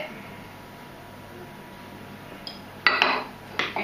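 Shredded coconut being mixed in a bowl, a soft quiet background that gives way near the end to a few sharp clinks and scrapes of a utensil against the bowl, close by.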